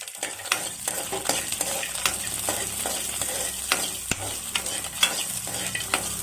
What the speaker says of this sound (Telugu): ఒక 1/2 స్పూన్ నెయ్యి వేసి ఈ జీడిపప్పుల్ని వేయించుకోవాలి.